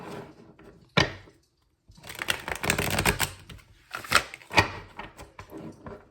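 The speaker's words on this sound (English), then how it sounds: "Going from shuffling that one there that's so easy and nice to shuffling this one that's not the best." Tarot cards are shuffled by hand in uneven bursts of papery riffling and slapping, separated by short pauses, close and fairly quiet.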